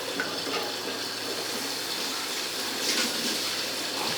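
Fish masala curry with added water bubbles in a pan on the stove, a soft continuous hiss and fine sizzling bubbling, steady and close, with no talk.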